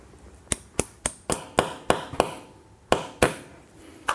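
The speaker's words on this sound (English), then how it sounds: "Hammer these in." Anchors are hammered into a concrete floor while a scissor lift ramp is installed, a run of about ten sharp metallic strikes ringing in an uneven rhythm, loud and close, with a short pause before the last few blows.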